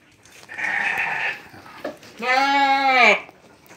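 Goats and sheep, including Texel and Merino sheep, bleat in a livestock pen. Two loud, close bleats come one after another, the second long and wavering.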